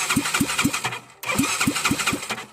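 Pickup truck engine cranking without catching, a starter churning in a rapid, even chug in two bursts separated by a brief pause, close and loud.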